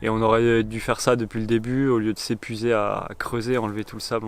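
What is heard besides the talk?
No distinct noise like a dog, phone or traffic.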